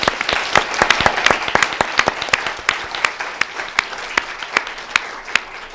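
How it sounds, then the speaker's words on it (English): Audience applause for a panel at a food labeling forum, many hands clapping in a dense burst that thins out into scattered, sharper individual claps as it fades. "let's give a round of applause for the panel"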